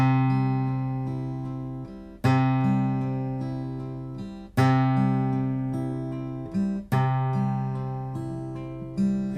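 Fingerpicked guitar repeating a chord pattern, clean and close, with sharp accented thumb notes striking about every two seconds over softer finger-plucked notes that ring and decay between them.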